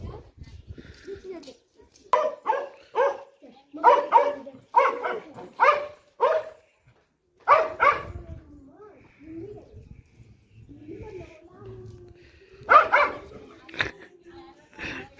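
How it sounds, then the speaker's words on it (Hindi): A small dog barks at a German shepherd in rapid bursts of sharp, yappy barks with short pauses and a few whimpers, while someone talks between the bursts. "एक छोटा सा कुत्ता जर्मन को डरा रहा है"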